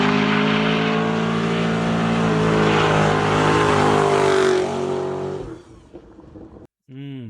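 A 5th gen Chevrolet Camaro V8 revs loudly and holds a roaring high note for several seconds before cutting off, after which a voice speaks over a quieter idle.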